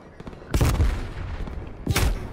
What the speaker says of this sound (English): someone sniped me next to the pool